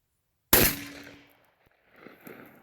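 A full-bore 12 gauge (.729 caliber) rifle fires a cheap low-recoil slug outdoors: one sharp, loud close blast that decays over about a second, followed by faint distant rumble and echo.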